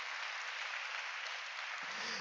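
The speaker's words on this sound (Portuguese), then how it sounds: "Uma salva de palmas para o Senhor Jesus." Congregation applauding during a church worship service, a dense steady wash of many hands clapping throughout, fairly distant and even, with no talk over it.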